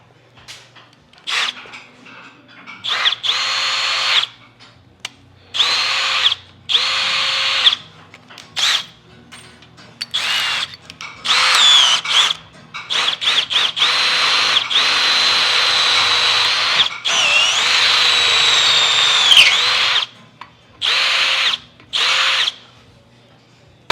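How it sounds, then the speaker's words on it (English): A power drill whirs in repeated bursts, starting and stopping irregularly, with some longer sustained runs and short pauses between. "then we'll drill our hole through there"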